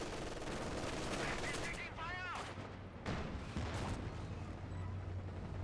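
Machine gun fire in a strategy video game, a dense continuous rattle of shots mixed with explosions under constant game noise, while a commentator talks over it.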